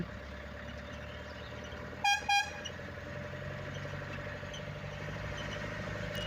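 A truck horn gives two short, loud toots close by on a potholed local road in a lorry, and a low engine hum continues under them.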